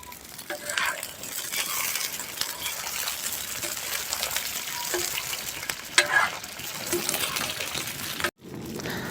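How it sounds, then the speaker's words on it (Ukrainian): Potatoes fry on a sadj pan over an open fire, with a dense continuous sizzle and crackle, occasional stirring scrapes and a sharp clink near the end. "картошечку зараз посмажимо"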